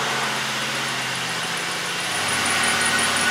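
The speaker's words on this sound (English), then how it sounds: "Now we can start the car and check the level again." A car engine idles steadily after being started during an automatic transmission fluid level check, a close, even mechanical hum with no speech.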